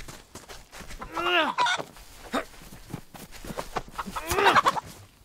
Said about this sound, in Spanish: ¡Gallina!